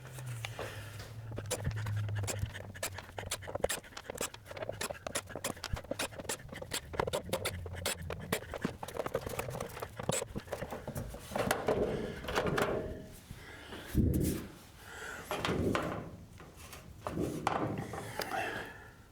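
About twenty screws come out of the back cover of a 15-year-old Samsung 42-inch TV: a dense run of quick clicks, scrapes and taps close by, with a few heavier thumps of the plastic panel toward the end.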